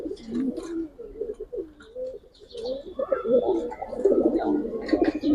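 Giribaz pigeons coo in low, throaty bursts close by, overlapping and growing busier toward the end, with a few higher chirps mixed in.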